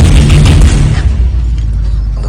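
A gunshot in a Tamil action film scene from Kaithi lands as a loud, deep boom that decays over about a second into a fading rumble, with no speech.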